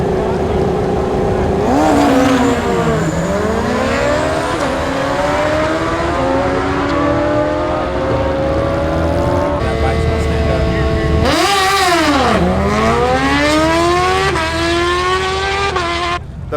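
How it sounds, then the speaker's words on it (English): Racing motorcycles scream past as a loud continuous roar whose pitch sweeps up and down with revving and passing, heard up close and without pause. "The bikes are going right now"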